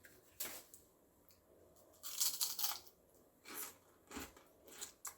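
Several sharp, crisp crunches of biting into fried crispy chicken skin snacks, coming in bursts with brief pauses between bites, close and fairly loud.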